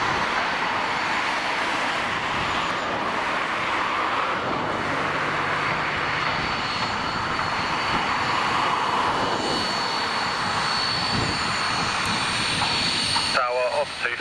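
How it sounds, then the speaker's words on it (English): A BAe 146-100 jet airliner taxiing toward the end of a runway at Cambridge Airport gives off a steady, loud roar and high whine that holds throughout, with brief faint radio-like chatter in the background. "The 146 will be taxiing to the end of the runway."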